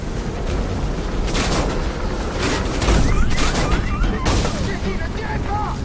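Gunfire in the video game Beyond: Two Souls, repeated shots and booms over a dense noisy battle bed, fairly loud throughout.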